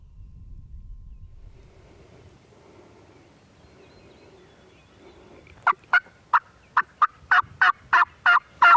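Loud wild turkey gobbles answer a call in a rapid series of about ten sharp bursts after a quiet stretch of faint outdoor ambience.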